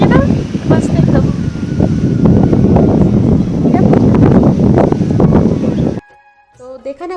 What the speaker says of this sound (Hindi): कितनी हवा चल रही थी कि हवा की आवाज़ इतनी ज़्यादा आ रही थी